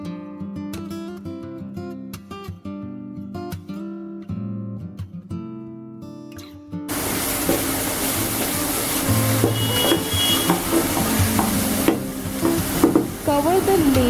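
Prawns frying in a pan and being stirred: a loud, dense sizzle with scraping and bubbling runs through the second half, following several seconds of background music with no cooking sound.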